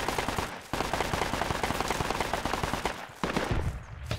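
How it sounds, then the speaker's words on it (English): Heavy, sustained gunfire in the video game Project Reality, with dense, rapid bursts of automatic fire, loud and continuous, and a brief lull near the start and another later. "That's some heavy fire."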